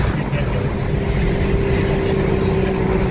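A car engine roars steadily at high revs from inside the cabin, a dense, loud drone holding a strong pitch throughout, with a voice briefly audible over it.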